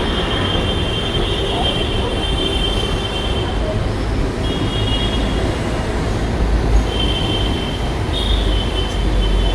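Metro train running on the NMRC line between NSEZ and Sector 76 in Noida, a steady loud broadband rumble throughout with intermittent high wheel squeals, no voices.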